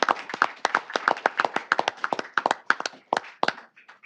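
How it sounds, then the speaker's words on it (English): Applause at a city council meeting for Holly Perez, a first grader from Bernie Tech Academy: a small group clapping in crisp, uneven bursts, close and fairly loud, thinning out toward the end. "Let's give her a big round of applause."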